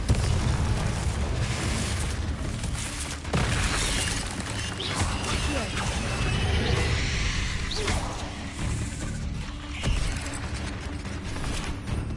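Confringo, the fiery explosion spell in Hogwarts Legacy, bursts amid dark-magic combat as a loud, dense roar with repeated booming blasts and mechanical clanks layered over a steady rumble, with no talking.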